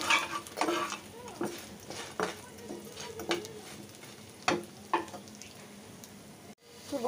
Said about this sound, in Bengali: তো বড়া ভাজা শেষ, এখন মরিচগুলো ভেজে নিব।